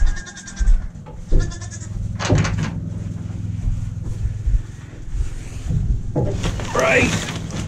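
Goats bleat in a goat pen, with several loud calls near and far spread through the scene, mixed with some handling noise and brief talking.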